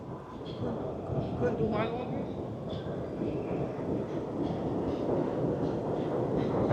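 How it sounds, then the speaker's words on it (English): An elevated train passes in New York City, a broad steady rumble and rolling roar that holds at an even loudness throughout, with faint higher squeals riding on top. "There's the elevated train."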